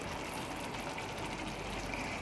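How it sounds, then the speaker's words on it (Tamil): Water poured into a pan of green mutton curry with fried masala, a steady broadband gushing and filling rush that runs continuously and fairly loud throughout, with no talk over it. "இந்த டைம் தண்ணி சேர்த்துக்கோங்க."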